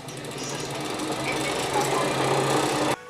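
A sewing machine runs steadily while stitching the layers of a first quilt, a close, continuous mechanical whir and rapid needle rhythm for about three seconds before it cuts off abruptly.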